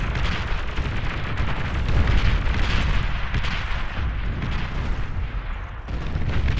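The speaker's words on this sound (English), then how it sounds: "Artillery being traded back and forth" Artillery fire in the real-time strategy game Beyond All Reason, dense booming volleys and explosions rumbling continuously and loudly throughout, with no talk.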